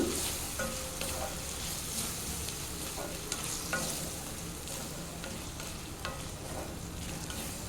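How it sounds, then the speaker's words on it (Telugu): Small tomato pieces fry and sizzle in a pan for an aloo capsicum kadai masala curry, a steady crackling hiss with occasional stirring scrapes, heard up close with no talking. "చిన్న చిన్న ముక్కలు కోసుకుని వేయించాలి"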